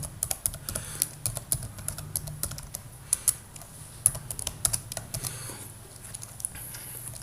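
Dense, irregular clicking of keys on a computer keyboard as someone types Java code, steady bursts of close, crisp taps over a faint low hum, with no talking.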